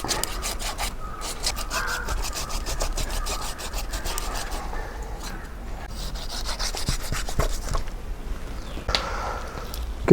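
A whole pond fish being cut and scraped, fins trimmed and thick skin peeled: close, rhythmic rasping strokes in quick repeated bursts, broken by brief pauses, with no talking.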